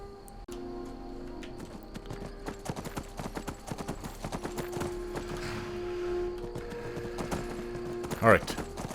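Horse hooves clip-clopping in Skyrim, a steady string of close thuds running under game music and a voice, with a neigh near the end.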